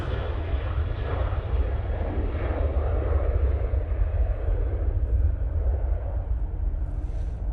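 A Ryanair jet airliner at Manchester Airport gives a steady, loud low roar of engines holding throughout, with a broad rushing wash above it and no clear voices.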